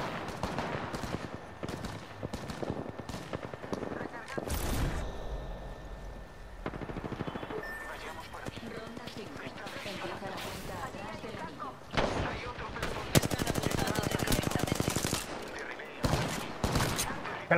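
Gunfire in the Apex Legends video game: rapid bursts of automatic shots and heavier blasts recur through the scene, loud and close, with game voices speaking between and over the volleys.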